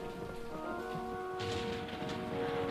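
Storm rain falls steadily with a low rumble beneath it, a dense, constant wash of sound with no voices heard.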